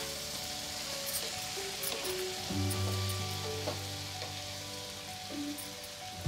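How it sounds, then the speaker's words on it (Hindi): Tomatoes stirred into vegetables for a navratan pulao sizzle loudly and continuously in the pan, with light scraping and clinks of the stirring spoon over the steady frying hiss. "इसमें टमाटर ऐड करके इस तरह से एक बार स्टिर करेंगे इसको"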